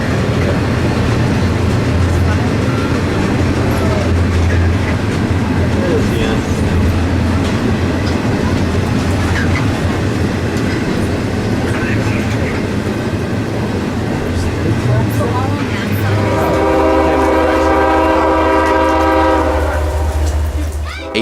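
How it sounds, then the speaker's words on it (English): Long CSX intermodal freight train rolling past out of Jacksonville's Duval ramp at Folkston, a loud continuous rumble and rail clatter with a strong horn chord blasting near the end. "This train is the longest train out of Jacksonville, having to quintuple daily out of CSX's Duval intermodal ramp."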